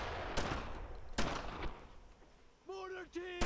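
Bursts of heavy gunfire ring out in the Brothers in Arms video game, loud broadband cracks coming in several clusters, followed near the end by a couple of shouted voices.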